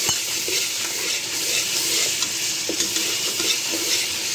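Masala for a chickpea biryani cooks in a pan and gives off a loud, steady sizzle up close, with stirring scrapes now and then. No one speaks.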